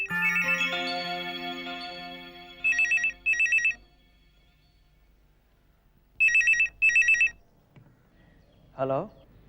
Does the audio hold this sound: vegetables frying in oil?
no